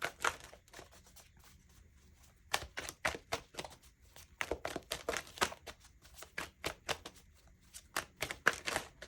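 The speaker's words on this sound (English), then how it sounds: "It's a lot of shuffling, no?" Irregular bursts of tarot card shuffling, quick riffles and slaps separated by short quiet gaps, close to the microphone with no talking.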